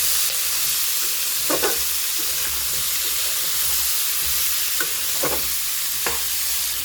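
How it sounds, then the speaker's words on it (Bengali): Mixed vegetables seasoned with ground cumin fry and are stirred in a pan for a spinach ghonto, giving a steady close sizzle with a few sharp scraping stirs on top and no talk. "ভাজা ভাজা করব সবজিগুলোকে।"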